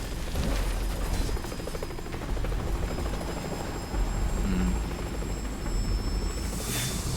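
Loud, steady helicopter rotor thumping with engine whine from Metal Gear Solid V: The Phantom Pain, continuous throughout, with rumbling low booms mixed in; no one speaks.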